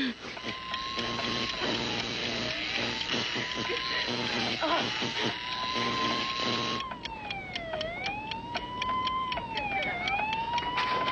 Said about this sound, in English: You hear that siren?